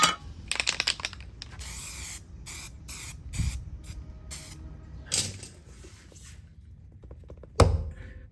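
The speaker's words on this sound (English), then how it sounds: "I'll go ahead and hit this with some weld through primer" Bursts of aerosol weld-through primer sprayed onto a car's cover plate on a 1996 Honda Civic EK hatchback, several short hissing blasts close by with brief pauses and a couple of clunks.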